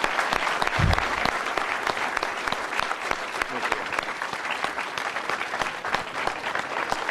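Sustained applause from a conference audience welcoming General David H. Petraeus, steady dense clapping lasting several seconds with a few louder claps near the start.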